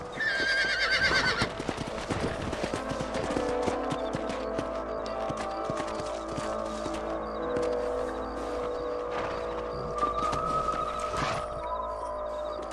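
Horses in the Red Dead Redemption video game whinny loudly at the start, then hooves clip-clop in a steady trotting rhythm close by, with another neigh later and faint ambient game sounds underneath.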